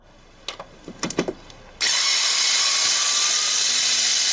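Screws on a Mercedes Vito W639 taillight being handled with an electric screwdriver: a few short clicks and clacks, then a sudden steady high whir from the tool that runs on, close and fairly loud, no talk.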